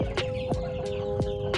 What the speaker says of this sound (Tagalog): May napansin tayo na isa nating manok na may halak.